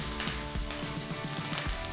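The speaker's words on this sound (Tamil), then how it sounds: "அடுத்து இடிச்ச பூண்டு, 2 கீறின பச்சை மிளகாய், கொஞ்சம் கருவேப்பிலையை சேர்த்து நல்லா வதக்குங்க." Crushed garlic, slit green chilies and curry leaves sauté in a hot pan for varan bhaat dal, giving a steady, close sizzle and crackle with faint stirring that runs without a break, and no talking.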